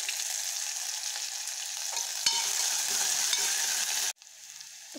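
Onions and green chilies fry in a pan with ginger and garlic, giving a steady crackling sizzle with a brief stir in the middle. The sound drops suddenly near the end and then carries on more quietly.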